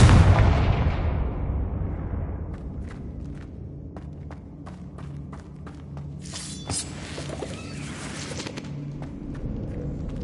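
A Confringo blasting spell in a Harry Potter video game sets off a loud, booming explosion at the start that rolls away into a long rumbling decay, followed by faint crackles and scattered debris.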